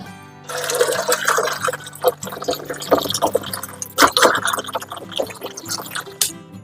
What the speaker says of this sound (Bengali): এই বাকি হাফ লিটার জল আমরা এর মধ্যে মিশিয়ে নিলাম